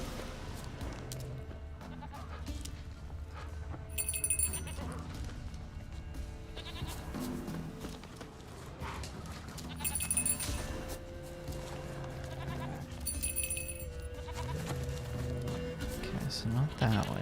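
A goat bleats a few times in The Witcher 3, with short cries standing out over game music and ambient sound, and speech is present.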